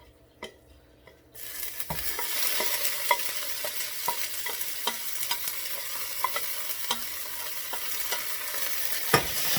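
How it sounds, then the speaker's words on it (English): Noodles frying in hot oil, a loud hiss that kicks in suddenly after a quiet start and holds steady, with regular scraping clicks of a utensil stirring against the pan, close up. "Let your noodles fry up a little bit."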